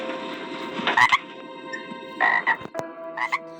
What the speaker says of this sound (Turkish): Susmuyor bu kurbağa.